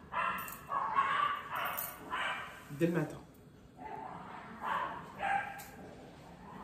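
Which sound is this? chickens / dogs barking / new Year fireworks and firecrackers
dogs barking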